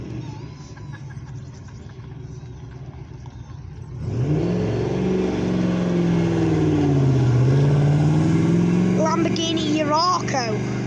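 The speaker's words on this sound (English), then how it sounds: "Here comes the classic Lamborghini." A classic Lamborghini Countach passes at a car meet at an inn, its engine rising into a loud, swelling roar that sweeps past with a falling drone, while people talk nearby.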